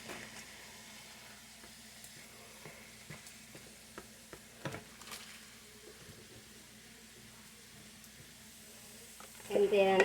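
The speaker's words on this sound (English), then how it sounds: "I'm going to add 1 stick of butter, just to kind of melt it down and get it going" A stick of butter melts in a hot pan on the stove for beef stroganoff, sizzling faintly and steadily with scattered clicks and pops, growing louder near the end.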